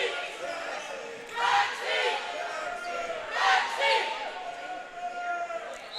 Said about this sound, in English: I don't know what that cheer was.